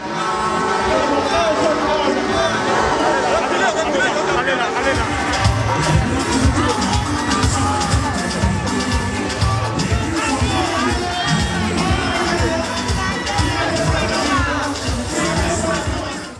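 A stadium crowd at a presidential campaign rally in Ouidah, Benin, roars and cheers continuously, loud and dense, with babble and shouting over rhythmic thumping, under French narration.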